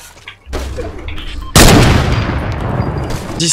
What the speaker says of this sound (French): il y a un sniper qui tire dessus là.